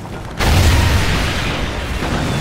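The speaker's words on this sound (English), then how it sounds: "Hornet's exploding." A sudden loud blast from an exploding Hornet aircraft in the Call of Duty Ghosts video game, with a deep booming rumble that keeps roaring steadily after the initial burst.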